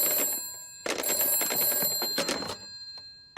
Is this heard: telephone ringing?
yes